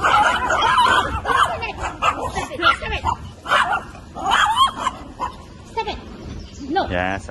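A playful dog on a street lets out repeated yips, short barks and whimpers close by, mixed with people talking throughout.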